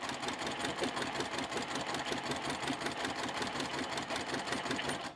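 A sewing machine stitches pieced quilt block rows for a star quilt, running steadily and close with a fast, even mechanical chatter that never stops for the whole stretch.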